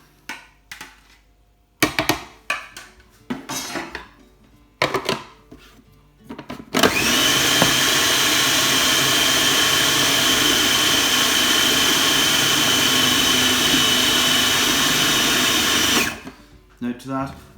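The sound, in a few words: food processor blending hot steamed potatoes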